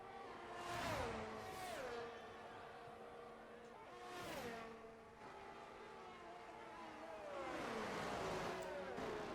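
Haas Formula-style race cars lap a Saudi Arabia circuit in a racing game, engines whining at high pitch and sweeping past in several distinct pass-bys amid a steady mechanical drone, fairly quiet overall.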